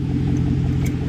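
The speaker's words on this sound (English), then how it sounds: "It's a big old truck." A big old truck's engine runs with a steady, heavy low rumble and slight throb, loud and close throughout the short stretch, with no talking.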